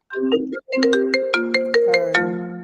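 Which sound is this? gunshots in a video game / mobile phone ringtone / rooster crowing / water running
mobile phone ringtone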